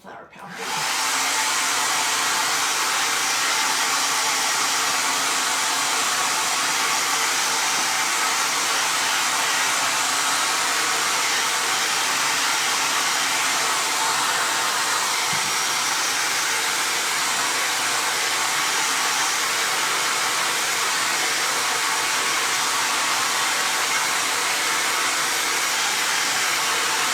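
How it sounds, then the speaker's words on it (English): A hairdryer blows continuously at close range for about twenty-seven seconds, a loud steady whoosh drying a piece of pounded pansy flower art with no talking over it. "I'm just going to use a hairdryer here real quick to dry it"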